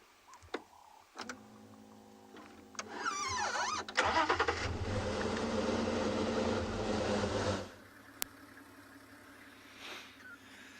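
A safari vehicle on a private game reserve in misty morning conditions, its engine running steadily at close range for several seconds before cutting out, with a few short clicks and knocks around it.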